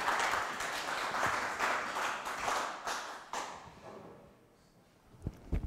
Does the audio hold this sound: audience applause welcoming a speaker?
yes